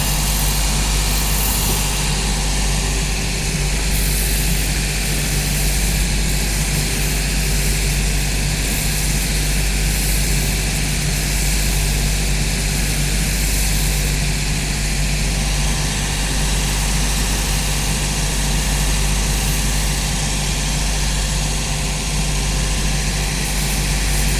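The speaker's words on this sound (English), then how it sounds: "we'll just machine all this here on the smooth band just to make it nice and clean" A shoe finishing machine runs continuously while its smooth sanding band works a boot sole, giving a steady, loud mechanical hum with a whirring drone that holds unchanged throughout, with no voices.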